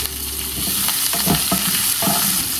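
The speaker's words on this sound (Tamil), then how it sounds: "காஞ்ச மிளகாவை போட்டுக்கலாம் கருவேப்பிலை போட்டுக்கலாம்" Dried red chillies and curry leaves dropped into hot oil burst into a loud crackling sizzle with sharp spluttering pops over a steady frying hiss, no talking.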